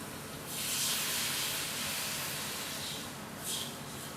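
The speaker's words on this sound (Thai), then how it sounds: "พอเนื้อหมูเริ่มสุกแล้วนะครับ ก็เดี๋ยวใส่น้ำได้เลยครับ" Water is poured into a pot of pork curry with eggplant: a steady, close, rushing hiss lasts about three seconds, with a brief second surge just before it ends and no talking.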